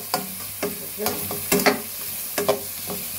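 Mustard oil goes into a hot pan for a fish dish, with a soft sizzle and several distinct metallic clinks and scrapes of a utensil against the pan spaced unevenly over a few seconds.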